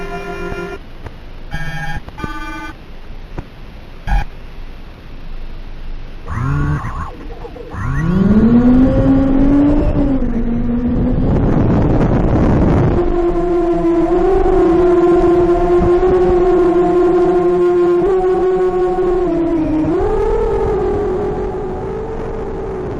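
Motors of an ultralight 200-gram 5-inch FPV drone whine up under throttle, a few short blips first and then a sustained, loud rising-and-holding tonal buzz that shifts pitch as the throttle changes, with no talk.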